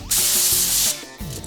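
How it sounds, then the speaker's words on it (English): Cooking spray from a new-style sprayer hisses in one loud, steady burst over the tops of sliders on artisanal buns, then cuts off into softer handling noise. "Spray the top. This stuff comes out crazy."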